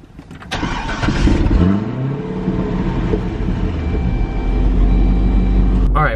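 Chevrolet C6 Corvette 3LT pulling away and accelerating, a loud, steady engine roar with rising gear sweeps that builds and holds for several seconds, with no talking.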